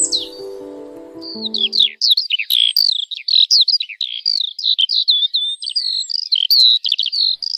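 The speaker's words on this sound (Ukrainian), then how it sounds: "Жайворонок прилетів і весну до нас привів." A skylark sings a continuous, rapid warbling stream of high chirps and trills, loud and close, following a brief lower musical tone at the start.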